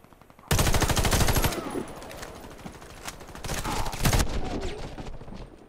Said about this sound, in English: A lot of gunfire going off.